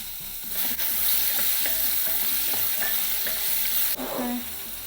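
Onions fry in a pan with a loud, steady sizzle while a utensil stirs them, scraping and clattering against the metal in repeated strokes, close and without talk.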